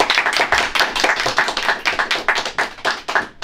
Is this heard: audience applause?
yes